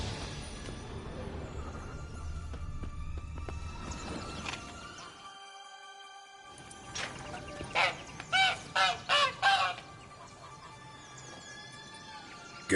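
Caged goose in Witcher 3: Blood and Wine, honking in a short burst of about five loud, evenly spaced calls over a steady game ambience, with a quiet pause beforehand.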